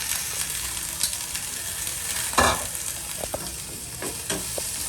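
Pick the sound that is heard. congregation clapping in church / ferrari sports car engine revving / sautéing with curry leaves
sautéing with curry leaves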